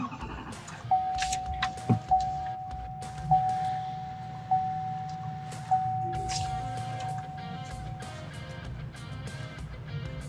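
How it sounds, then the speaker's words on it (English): A 2020-or-newer L5P Duramax diesel pickup being started, with a long steady chime tone under clicks, thumps and cabin handling noises before the engine settles into a low idle rumble. "At this point, I'll just start the truck."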